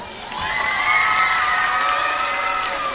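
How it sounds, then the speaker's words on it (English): A school assembly full of children erupts in loud, steady cheering and shouting, with some clapping, a bright crowd roar that holds for several seconds. "All right, how about one more round of applause?"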